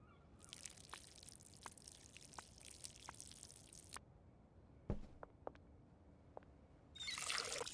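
Plants are watered in the game Schedule 1: a steady pouring stream for several seconds, then scattered soft drips and squishy taps, ending with another short pour.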